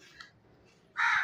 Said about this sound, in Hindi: तो ये पीछे जो है वो कौवे की आवाज़ आ रही है